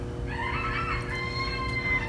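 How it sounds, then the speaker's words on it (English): A rooster crows once, a long drawn-out call that starts loud and tapers off over a steady low hum. It is fairly close, and no one speaks. "It's my rooster."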